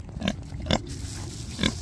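A pet pig grunts outdoors on a farm, with three short grunts spaced across the clip over a steady background hum, fairly close and moderately loud.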